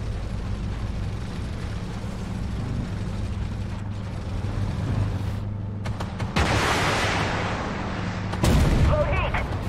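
A Leopard 2 tank fires its cannon in the video game Armored Warfare: a loud, sharp blast breaks over a steady low engine and track rumble, and a second heavy burst follows near the end.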